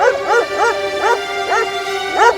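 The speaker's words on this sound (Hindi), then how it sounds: "देवी प्रसाद तो छोटे साइज का डॉगी है, फिर ये इतनी जोर से कैसे भौंक रहा है?" A small dog yaps loudly in a quick run of sharp, pitched barks, about eight in a row with short gaps, close and clear against a quiet background.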